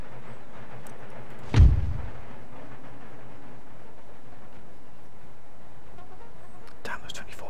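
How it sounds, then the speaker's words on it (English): A single heavy boom of 24-pounder artillery fire in the video game Empire: Total War sounds early on, followed by a quiet stretch with faint background ambience and some soft clicks near the end. "those 24 pounders are going to absolutely batter us to pieces here"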